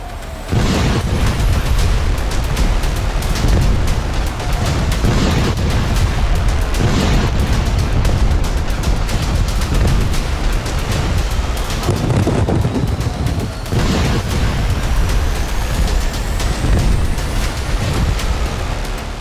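Heavy booming missile blasts roll one after another, deep and rumbling, with a constant roar of wind-like noise between the explosions.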